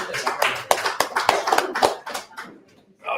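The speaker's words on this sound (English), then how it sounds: "How about a round of applause for our young." An audience at a live show at Stable Winery gives applause, a small group clapping with distinct sharp claps that thin out and fade, and a voice comes in at the very end.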